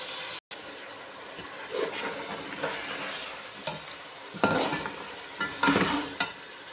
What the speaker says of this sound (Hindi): गोश्त को हम 10 मिनट अच्छी तरह भूनेंगे